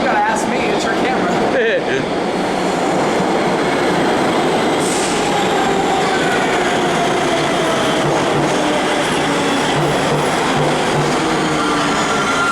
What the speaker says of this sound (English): Here comes a 1 train.